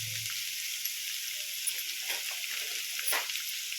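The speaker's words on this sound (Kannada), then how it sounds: "ಚೆನ್ನಾಗಿ ಹಸಿ ವಾಸನೆ ಹೋಗೋವರೆಗೂ ಹುರ್ಕೋಬೇಕು" Radish chutney with curry leaves, coriander leaves and coriander powder frying in oil: a steady, close hiss of sizzling with faint scraping stirs, and no voices.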